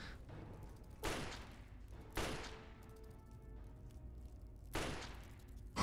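Three separate gunshots from a Fallout game, fired at a roach and missing, each a sharp crack with a short tail, spaced a second or more apart over quiet background.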